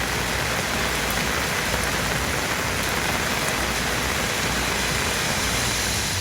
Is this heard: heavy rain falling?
yes